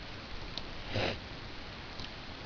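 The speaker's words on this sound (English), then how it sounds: "You'll have to apologise for my sniffing." A single sharp sniff through the nose, close and quiet, with a couple of fainter breathy sounds around it in an otherwise still room.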